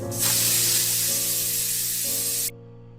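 A pressure cooker boiling chickpeas on a stove lets out one loud, steady jet of hissing steam from its whistle for about two seconds, then cuts off.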